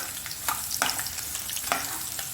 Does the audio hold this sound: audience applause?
no